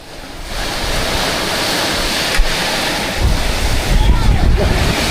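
Strong northeast monsoon wind buffets the microphone along a coast while ocean surf crashes and swells louder toward the end, a continuous rough roar that sounds close.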